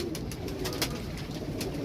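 Dabba wale breed antique pigeons coo softly and continuously in a low murmur, several birds overlapping nearby without any talking.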